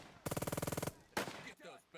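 Automatic gunfire during an infantry assault in the video game Burden of Command: a loud, rapid burst of about a dozen evenly spaced shots, a short pause, then another sharp blast fading into a ragged tail.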